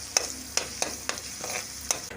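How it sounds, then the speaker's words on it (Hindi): Ginger garlic paste frying in a pan with whole spices for Pakistani dhaba-style beef kofta, a steady low sizzle broken by several sharp scrapes and clicks of stirring, close and moderately quiet with no talk. "अब इन खड़े मसालों के साथ अदरक और लहसुन को अच्छी तरह से भून लेंगे ताकि इसका कच्चापन दूर हो जाए।"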